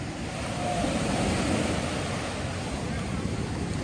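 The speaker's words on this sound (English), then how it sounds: "Y'all, it's so crowded. This beach is very crowded." A crowded beach on a Sunday, with a steady wash of waves and surf under wind buffeting the microphone, broad and constant throughout, with indistinct background crowd noise.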